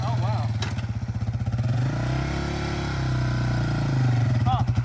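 Yamaha Warrior 350 ATV engine, a clutched four-wheeler, idling up close with a steady low throb, then rising in a brief rev before settling back; a voice talks over it near the start and end.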